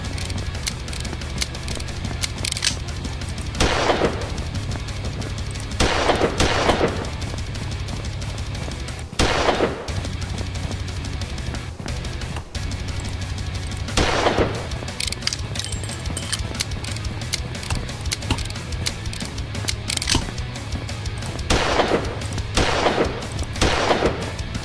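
A slow, powerful video game gun fires a handful of heavy, spaced-out shots over a low, steady game ambience, each one a sharp, loud blast that stands well apart from the next.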